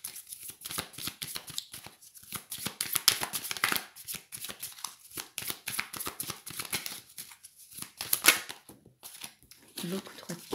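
Tarot cards riffle and flick in quick, close, papery bursts for about ten seconds, with brief pauses between runs.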